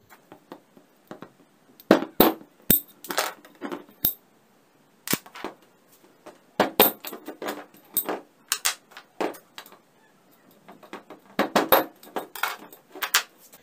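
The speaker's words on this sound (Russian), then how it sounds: "Таким же способом отклеиваем все остальные магниты." Neodymium magnets being pried off and removed after being unglued, producing sharp metallic clicks, clacks and brief clattering in irregular bursts, close and fairly loud, with short pauses between and no talking.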